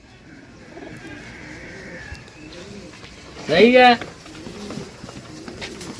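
Soft pigeon coos in the background, with a short loud flutter or call midway and someone speaking briefly over it.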